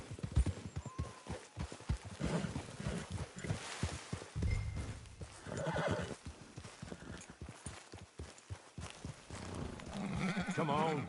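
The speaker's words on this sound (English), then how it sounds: "Get your horse." Horse hooves clip-clop in a steady rhythmic gait in a video game, close and prominent, with snorts and whinny-like animal sounds mixed in and faint background game audio.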